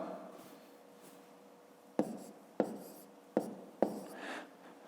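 A pen taps and scratches across paper while numbers are written by hand, four sharp strokes in the second half, close and distinct in a quiet room.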